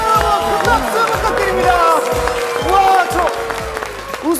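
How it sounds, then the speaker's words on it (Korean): Studio audience clapping and cheering during a Korean variety show segment, loud and close, with overlapping voices, laughter and excited chatter throughout. "큰 박수, 큰 박수"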